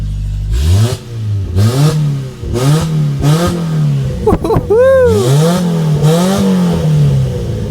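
A deep engine revs repeatedly in loud surges, the exhaust rumbling up and dropping back, heard from inside the cab of a Subaru Sambar truck fitted with a full exhaust and header, with a brief clatter midway.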